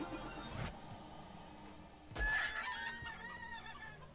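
Chickens in the video game Divinity: Original Sin squawk and cluck as they are slain, two sharp bursts of noise with a shrill squawking call after the second, fairly faint against game ambience.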